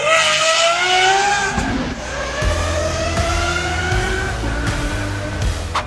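A loud sports car engine revs hard nearby, with rising whining pitches climbing through gears and deep throaty bursts between shifts, filling the whole clip.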